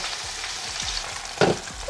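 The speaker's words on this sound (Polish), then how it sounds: "I od razu podsmażam kolejną partię." Pork neck sizzles and fries in a pan, a close, steady hiss and crackle with a brief louder spatter as the meat is stirred.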